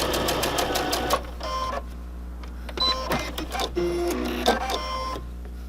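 A sewing machine runs in several short stitching bursts on a fabric mast with a filter pocket, whirring briefly then pausing, close and moderately loud over a steady mains hum.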